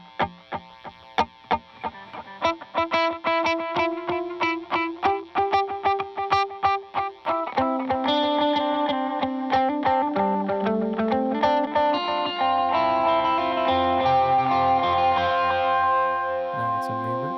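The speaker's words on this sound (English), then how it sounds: "it's a very simple delay." An electric guitar runs through a simple delay pedal, plucked notes trailing repeating echoes, then sustained chords and melodic lines layered with repeats, loud and alone.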